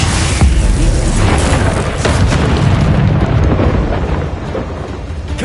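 A Confringo blasting spell in Hogwarts Legacy erupts into a loud, rumbling explosion that holds as a dense roar before easing slightly near the end, with no talking over it.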